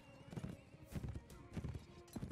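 Horse hooves clip-clop in the medieval video game Mount & Blade: With Fire and Sword, a quick irregular run of close hoofbeats over a busy, cluttered background.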